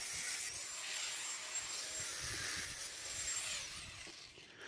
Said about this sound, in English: Now I need to grind them out.